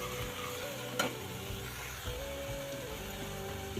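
Cumin powder, garam masala and turmeric get stirred into tomato gojju frying in a pan, a soft continuous sizzle with scraping stirring strokes and an occasional sharp tap of the spoon against the pan.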